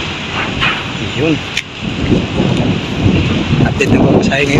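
Strong wind and rain roar into the microphone during a storm on the road between Dipolog and Carmen, Cotabato. The gusts buffet constantly and people talk underneath.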